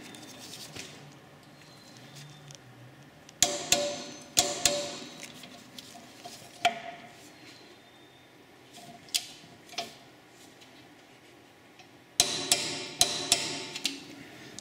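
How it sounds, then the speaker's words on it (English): Sharp metallic clicks from a torque wrench tightening brake caliper bolts on a Dodge Grand Caravan to 100 newton meters, arriving in irregular clusters of close, loud snaps with quieter workshop clatter between them. "grab your torque wrench, and we're going to torque this up to the factory spec"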